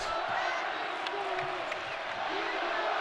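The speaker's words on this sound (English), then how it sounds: "Crowd rises to its feet." A basketball crowd at a Utah State versus BYU game rises and cheers, a steady, fairly distant roar of many voices that holds throughout.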